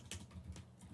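Quick typing on a computer keyboard, a short burst of a few close, crisp key clicks in quiet surroundings.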